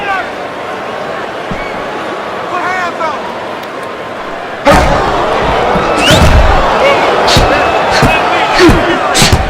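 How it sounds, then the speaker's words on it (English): Boxing match in the Fight Night Round 4 video game: a fighter is knocked to the canvas as a sharp impact cuts in midway, followed by a loud roaring arena crowd with punchy thuds, under commentary. "Once again he hits the deck."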